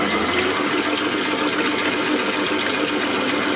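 Heavy cream, about 600 ml at roughly 40 percent fat, beaten on low speed with an electric mixer to make homemade butter; a steady whirring motor with wet churning fills the whole stretch, loud and close, with no talk.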